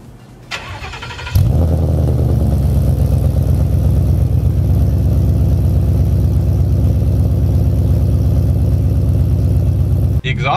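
Car engine with long tube headers exhaust cranks and fires on a chilly start, catching abruptly into a loud, steady, rumbling idle that runs for several seconds before cutting off.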